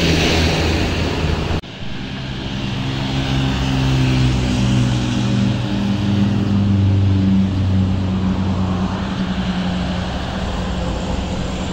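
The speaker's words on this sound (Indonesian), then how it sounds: "Bus pariwisata ya kawan Dewa menuju ke arah Tasikmalaya." A tour bus climbs the steep Kebon Cengkeh incline at Cicalengka, Bandung, its engine droning loud and close with a deep, steady low rumble and road noise throughout, building toward the middle as it passes.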